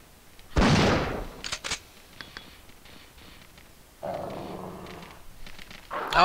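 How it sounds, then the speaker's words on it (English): Dogs growl and snarl in the survival horror game Resident Evil 3: Nemesis, with a sharp burst early on, then a sustained low snarl later, among scattered game effects. "More dogs"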